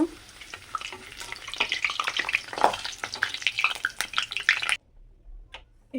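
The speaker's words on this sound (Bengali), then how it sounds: "আলুগুলো চিপসগুলো অল্প অল্প করেই দিব লাল লাল করে এরকম করে ভেজে নিই" Thin potato chip slices frying in hot oil for crisp shop-style chips: a busy, crackling sizzle with bursts of bubbling and spatter that stops abruptly near the end, leaving near silence.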